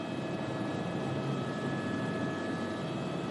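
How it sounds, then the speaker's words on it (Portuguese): A helicopter on the runway at Jacarepaguá airport in Rio de Janeiro gives a steady, droning engine hum with a faint high whine, continuous and unbroken, with no voices. "O helicóptero já está na pista do aeroporto de Jacarepaguá."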